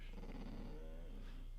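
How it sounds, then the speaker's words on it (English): A dog growls low and close for a moment, a soft continuous rumble that rises slightly toward a whiny edge, with no one speaking. "Dog."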